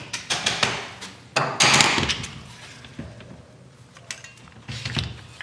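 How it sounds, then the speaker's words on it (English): Adjustable stock on an AR-15 rifle built with JP Rifles parts slid and locked into place, a run of close, sharp mechanical clicks and clacks followed by a quieter rattle and a final pair of snaps. "adjustable stock, lock it in."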